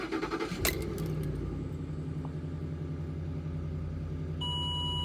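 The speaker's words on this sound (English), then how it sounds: "let's go ahead and start the car" A car with an engine that pops at idle starts cold: a short cranking rattle, then the engine catches and settles into a steady, even idle hum that continues to the end.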